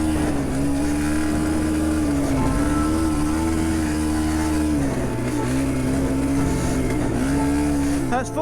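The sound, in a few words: cheap dirt bike engine at full throttle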